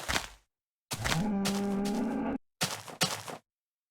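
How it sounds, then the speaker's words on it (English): Cows in the video game Minecraft let out three moos: a short one, a long drawn-out low moo, then a couple of brief ones, clear and close with quiet gaps between. "Oh, it's cows."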